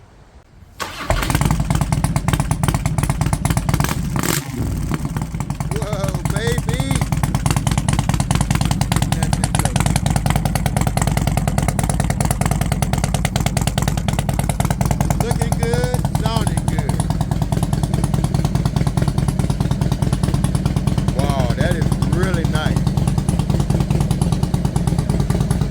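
A used Harley motorcycle starts, then its engine runs steadily close by for over twenty seconds with a dense, rapid rumbling pulse and a constant level, while voices are faintly heard under it.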